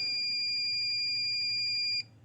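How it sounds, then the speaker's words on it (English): A small electronic buzzer wired to pin 23 of an IoT board gives a continuous, piercing high-pitched tone for about two seconds, then stops abruptly, leaving only faint background hum. "So this small buzzer here is actually buzzing quite loud."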